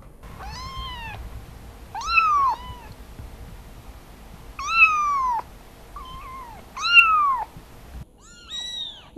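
Kittens meow in short, high, rising-and-falling calls, about five or six separate cries spaced a second or two apart, fairly close, with a low background hum and no talking.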